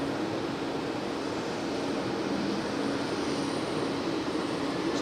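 An EasyJet airliner arriving from Birmingham at Geneva Airport gives a steady, loud, broadband jet roar that holds constant throughout, with no voices over it.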